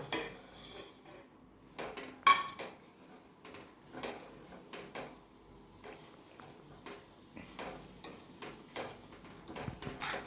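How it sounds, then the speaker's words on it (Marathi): Grated coconut and jaggery are stirred in a pan, with a spoon scraping and knocking against the metal in an irregular run of soft clinks and taps, fairly quiet and close, with no talking. "असं हलवत हलवत राहायचं म्हणजे गूळ आणि खोबरं एकत्र एकजीव होईल"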